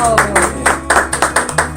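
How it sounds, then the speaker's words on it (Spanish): A small studio group clapping on a Panamanian Catholic Bible program, a steady run of about a dozen close, sharp claps over a sustained musical hum. "¡Ay, un aplauso!"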